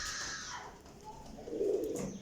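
A pigeon of a golden-speckled Sialkoti pair coos softly nearby, a low murmuring call that swells near the end over quiet background.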